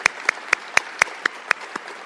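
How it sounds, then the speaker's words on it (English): Several people clap for Metro ambassadors at a public event, with eight or nine sharp, evenly spaced claps that stand out over a softer, steady bed of background clapping. "Let's give them a round of applause."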